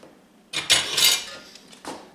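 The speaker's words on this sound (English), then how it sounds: "Stir this about." A spoon stirs a pot of chicken and dumplings, giving a short burst of clattering scrapes against the metal, a brief pause, then one more quick knock.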